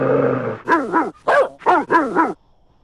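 A dog gives a rapid series of five sharp, close barks in two quick bursts after a brief whine, then falls silent.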